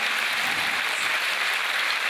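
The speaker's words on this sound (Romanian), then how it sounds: "Să-l aplaudăm pentru că este..." An audience applauds at a live concert, a dense, steady, loud wash of clapping that fills the whole moment without talk.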